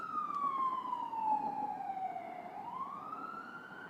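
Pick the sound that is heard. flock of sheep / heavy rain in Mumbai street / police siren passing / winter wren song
police siren passing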